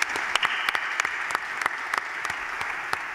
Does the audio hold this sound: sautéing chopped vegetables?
no